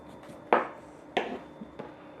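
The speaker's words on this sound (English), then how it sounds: "The second drink we're going to make has a lime twist, so I'm going to cut that off right now so we have it ready." A knife cuts a twist of peel from a lime for a cocktail, giving three short crisp slicing clicks spaced through a quiet moment, close and fairly soft.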